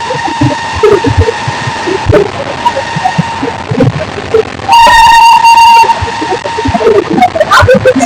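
Gour Express train on the Sealdah to Malda route pulling into Naihati Junction, with steady rumbling and clatter, a loud whistle-like tone partway through and brief bursts of noise nearby.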